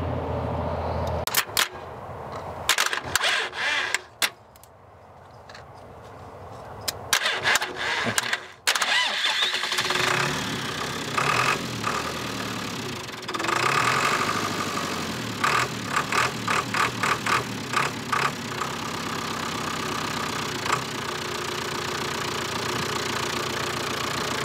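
A cheap used telehandler's engine cranks with a few sharp bursts, stumbles, then catches and settles into a steady, loud mid-pitched idle with rapid knocking pulses over it.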